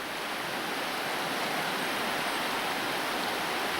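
Small river in its early stages flowing over rocks, a steady broadband rush of water close by, continuous and fairly loud with no voices.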